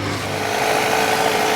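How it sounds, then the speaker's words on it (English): A used Ford Focus idles steadily while warming up, with a tire inflator pump also running nearby; a smooth, continuous engine drone with a faint higher whine, close and unchanging, no talking. "Car is slowly warming up."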